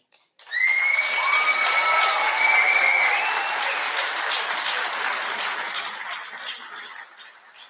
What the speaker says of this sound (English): So now you can give yourselves that applause you practiced earlier.